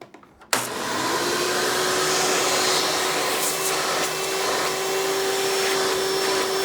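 Hoover hard-bag upright vacuum switching on after a few small knocks, then a loud steady motor roar with a constant whine as the hose suction runs, no talk.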